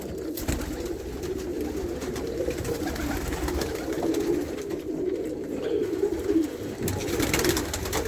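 Racing pigeons cooing at a loft, low throaty coos repeating in overlapping bursts close by, with wing flutters and light rustling as the birds land and settle, and no talk over them.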